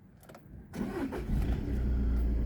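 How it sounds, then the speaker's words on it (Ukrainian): A Skoda Octavia A7 Greenline with start-stop fires up after a short crank, then settles into a steady idle close by, with no talking. "Заводиться автомобіль"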